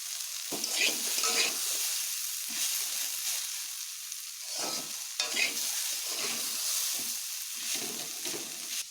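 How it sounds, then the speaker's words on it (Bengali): Crushed garlic fries in hot oil with a bright, steady crackle, and several scraping stirs sound at irregular intervals close by. "এই রসুনগুলোকে আমি থেতো করে নেব এগুলোকে এইভাবে বেশ লাল লাল করেই ভেজে নেব"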